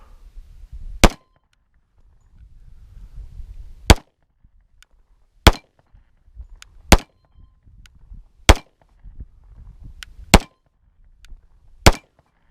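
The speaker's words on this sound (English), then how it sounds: "first couple shots, here we go." A Sig Sauer P320 pistol chambered in .45 ACP fires seven sharp, loud shots spaced one to two seconds apart, each a crisp isolated crack over quiet low rumble.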